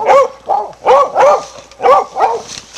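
Hunting dogs bark during a caracal hunt in South Africa's Eastern Cape, giving six loud, close, rhythmic barks in quick succession with no talking.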